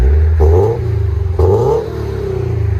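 A 2020 Subaru BRZ 2.0L with a Perrin cat-back dual exhaust revs loudly and close up, two sharp blips climbing and falling before settling into a raspy, pulsing idle.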